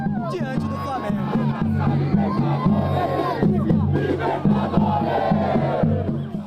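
Palmeiras supporters roar and chant outside the club's football academy, a dense crowd noise with rhythmic shouted chanting that swells steadily throughout.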